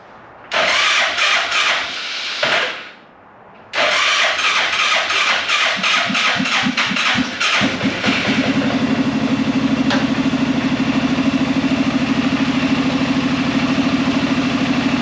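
An Arctic Cat Prowler engine cranks in several bursts, catches and settles into a steady, close idle with a constant low drone.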